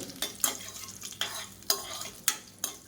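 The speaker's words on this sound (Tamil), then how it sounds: "எல்லாமே நல்லா பொரிய ஆரம்பிக்குது." Whole spices and curry leaves fry in oil in a pan, a quiet sizzle underneath six or seven brisk spatula strokes that scrape and tap against the metal at an uneven rhythm.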